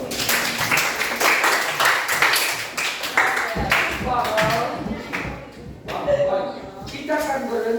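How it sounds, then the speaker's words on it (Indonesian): Class audience clapping hands in a classroom reading exercise, a dense run of sharp claps for several seconds, mixed with shuffling and some voices. "silakan tepuk tangan."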